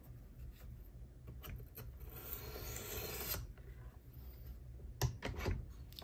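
A knife is sharpened on the stone of a Worksharp Professional Precision Adjust sharpener, quiet rasping rubs in short passes, one longer stroke in the middle, with a few faint clicks near the end.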